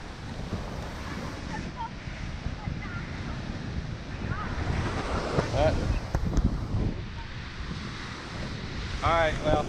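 Ocean waves wash in at Lamai Beach on Koh Samui, a continuous surf roar mixed with gusty wind noise on the microphone and faint distant sounds throughout.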